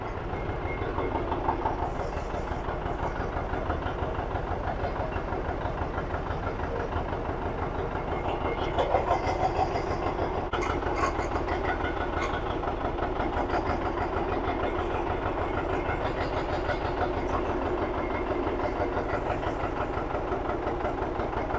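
A John Deere 720 diesel tractor idles while backing up, its engine producing a loud, steady, close rumble that continues unbroken throughout.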